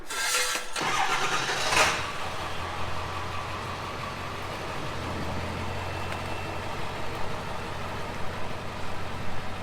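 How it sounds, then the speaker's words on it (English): A Ford 7.3 Powerstroke diesel in an XL work truck cranks for a couple of seconds, fires, and settles into a steady, loud low idle, heard from close by with a brief spoken word. "We're gonna see if this truck starts"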